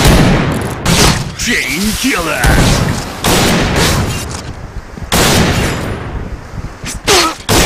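Sniper rifle gunfire from an L115A1 in the Point Blank PC shooter game, with several sharp booming shots spread through the clip, overlaid by loud game voice announcements and speech.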